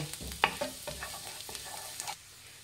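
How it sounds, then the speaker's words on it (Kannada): Chopped garlic frying in butter for a butter garlic egg sandwich, a soft close sizzle with a few spoon scrapes and taps against the pan, brief and fairly quiet. "ಇದನ್ನು ಫ್ರೈ ಮಾಡಿ, ಬೆಣ್ಣೆ ಜೊತೆ ಚೆನ್ನಾಗಿ ಫ್ರೈ ಮಾಡಬೇಕು."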